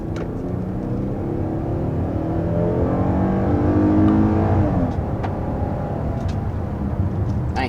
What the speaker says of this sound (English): there we go with an initial acceleration in the 2022 Telluride